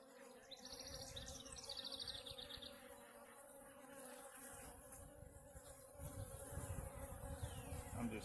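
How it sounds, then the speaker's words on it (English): Dense buzzing of a large mass of honeybees clustered inside a swarm trap where they are building comb, a steady droning hum close by with a few brighter whining passes early on. "it's a lot of bees in here"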